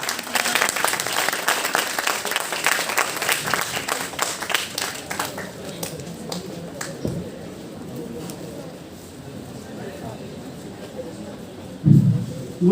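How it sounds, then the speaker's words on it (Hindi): A student audience at an open mic event applauds, loud at first then thinning out into scattered clapping, with a brief thump near the end. "एक बार जोरदार तालियां"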